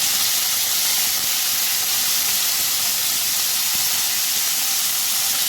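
Washed mint leaves fry in a pan for pudina rice, giving a loud, even, continuous sizzling hiss with no break.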